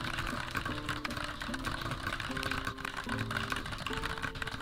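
Fast, continuous typing on a mechanical keyboard with bumpy tactile switches during a speed test, a dense patter of clicking keystrokes heard close and steady throughout, with no speech.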